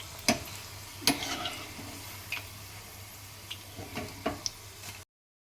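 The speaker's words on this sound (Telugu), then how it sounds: "లో ఫ్లేమ్లోన చక్కగా మంచి కలర్ వచ్చే వరకు వేయించుకోవాలన్నమాట" Cut okra (lady's finger) pieces fry gently in a pan over a low flame. A soft, quiet sizzle carries a few sharp ticks and pops spaced irregularly throughout, with no talk.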